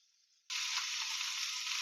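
Boiled potatoes fry in oil with a pinch of turmeric; a faint hiss suddenly jumps into a loud, steady sizzle that holds to the end, close by with no voices.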